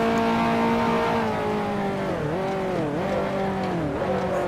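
A 1955 Mercedes and a Lancia race car in the Grand Prix Legends game drone steadily at high revs on the Zandvoort circuit, engine pitch dipping and rising through several gear changes or corners.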